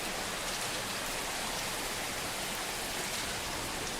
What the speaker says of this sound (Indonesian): Kita bangun di tengah malam dengan hujan yang deras di luar.